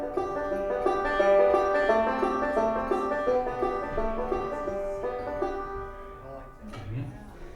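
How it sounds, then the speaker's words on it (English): Bluegrass banjo picks the melody of Hot Cross Buns in a mixed roll pattern, a bright, busy stream of rapid plucked notes at steady tempo, close and clear, ending with a brief pause and faint handling noise. "The other one that sounds cool is a mixed roll pattern on hot cross buns."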